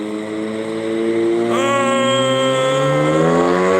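A Ford Fiesta engine drones, then its pitch jumps as it revs up and holds a loud, steady whine close by.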